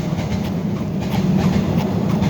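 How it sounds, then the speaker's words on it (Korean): A Seoul subway Line 7 train rumbles past in a steady, loud, continuous roar with faint rhythmic clatter from the wheels and no voices. "지하철 7호선이 통과하는 소리가 납니다"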